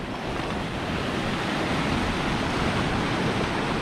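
Sea waves wash steadily in Looking Glass Bay, Fiordland, a continuous broad roar of surf mixed with wind buffeting the microphone, loud and unbroken with no voices.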